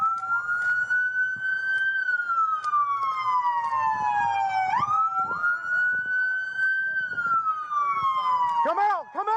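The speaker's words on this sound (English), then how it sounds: "It's city siren." A loud police siren wails in long rising and falling sweeps, close and continuous, with faint background commotion beneath it.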